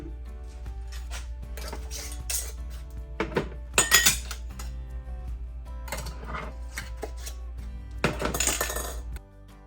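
Metal canning rings are screwed finger tight onto pint jars of green beans, with clinks, clatters and scraping of metal on glass in bursts, close and fairly loud.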